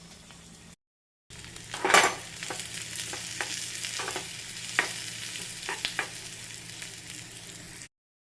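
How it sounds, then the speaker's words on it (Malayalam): Onion, dried red chili and curry leaves frying in coconut oil, a moderate sizzle broken by a short silent gap, with spoon clinks and scrapes against the pan. "അത് വെളിച്ചെണ്ണയിലൊന്ന് മൂപ്പിച്ച് ഉള്ളിയും ഒരു വറ്റൽ മുളകും കൂടെ മൂപ്പിച്ച് കറിവേപ്പിലയും കൂടെ മൂപ്പിച്ച്"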